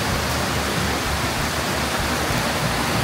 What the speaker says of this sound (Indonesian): Tapi ternyata ini emang lagi agak-agak gerimis.